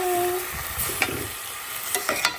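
Vegetables for a capsicum paneer curry sizzle in a pan while a spoon stirs and scrapes, with a few sharp clinks over the steady frying hiss.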